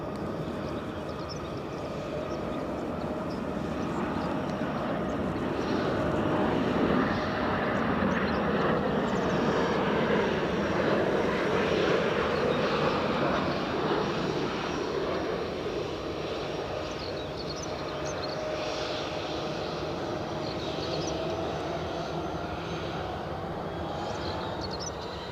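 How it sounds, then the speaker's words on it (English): A Ryanair Boeing 737-800 arriving at Edinburgh Airport gives a steady, loud jet engine roar that swells and holds for about twenty-five seconds, a broad rushing drone with a faint whine over it and no voices. "Next arrival team is a Ryanair from Copenhagen. A 737"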